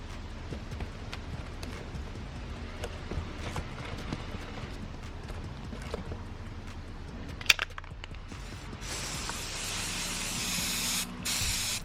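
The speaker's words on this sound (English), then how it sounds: "I just had to turn it different angles to make sure the spray paint got in between all the petals" Spray paint can hissing steadily onto paper flower petals, a continuous close hiss with a brief loud burst near the middle and a brighter, more intense spray toward the end.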